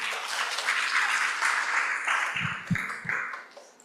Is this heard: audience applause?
yes